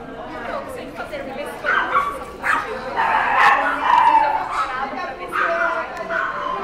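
A dog yips, whimpers and gives short barks in excited bursts at a dog house training talk, close and fairly loud, with people talking over it.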